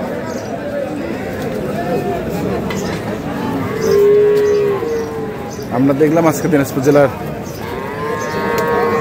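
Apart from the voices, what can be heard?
cattle mooing at bull market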